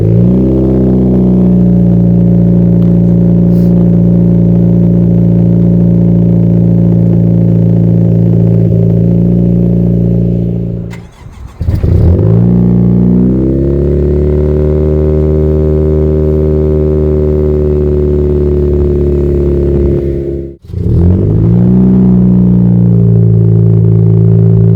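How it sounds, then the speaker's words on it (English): A 10th-gen Honda Civic Si fitted with a MAPerformance race exhaust revs repeatedly, holding a loud, deep steady drone broken by two brief drops as the throttle is released and then picks back up; close and alone. "I started revving the hell out of this car, and it gives me a really deep tone"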